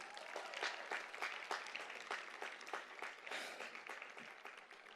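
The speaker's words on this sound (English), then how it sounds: "give yourselves another round of applause" Graduates applaud at a 2021 college commencement ceremony, a steady crowd of many hands clapping for several seconds at moderate loudness, without talk.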